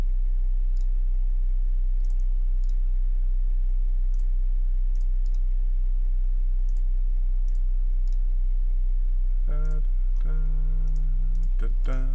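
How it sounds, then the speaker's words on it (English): Buttons click in quick light bursts during a digital painting session, scattered taps across the stretch, then a voice briefly hums over a steady low hum near the end. "I'm sure you guys can hear me clicking away buttons here."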